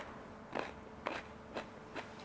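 Quiet crunchy chewing of a spicy Ethiopian stuffed pepper, four soft bites spaced evenly, close to the listener.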